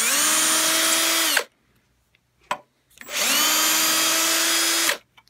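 An electric drill runs in reverse in two bursts of about a second and a half each, a loud steady motor whine with a short click between them and nothing else around it.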